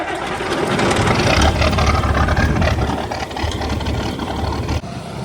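A Peterbilt truck engine drones loudly and steadily while driving, a low rumble with road noise that eases slightly near the end.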